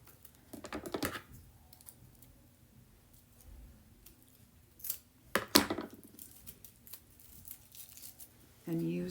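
Scissors snip through raffia and a couple of small leaves while a wreath or floral craft piece is assembled, giving a few sharp crisp cuts and light crinkling rustles at close range, mixed with soft handling noises.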